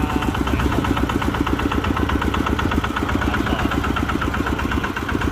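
A homemade grass-cutting farm vehicle idles with its engine running close and loud, a steady rapid mechanical chugging that stays even from start to finish, with no talking.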